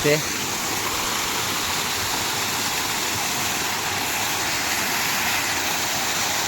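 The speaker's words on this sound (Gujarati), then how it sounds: "કેવું મસ્ત પાણી પડે છે" A small waterfall stream spills below a filled village lake, giving a steady, even hiss of falling water that runs on without a break and stays close and fairly loud.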